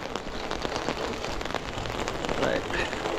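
Steady rain falls around a person out on a walk, a dense close patter that holds at an even level from start to finish.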